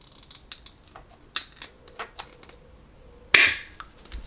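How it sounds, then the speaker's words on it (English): Aviation shears snip through a metal roller-shade valance bracket to cut off its last hole, giving several sharp, close metallic crunches spaced irregularly, ending in one louder final cut. "I've got some aviation shears. I'm just going to go ahead and cut this last hole off."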